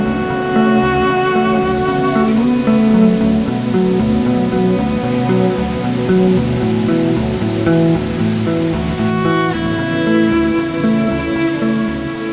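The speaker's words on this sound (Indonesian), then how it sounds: "Seberkas pelangi menjulang indah tepat di atas gemuruh air terjun." A roaring waterfall at the foot of Mount Semeru in East Java, heard as a loud, steady wash of falling water that holds continuously close by with no voices.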